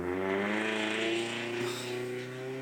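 Loud car engine holding a steady, rich droning hum with a slight rise and fall, continuous and close throughout with no voices.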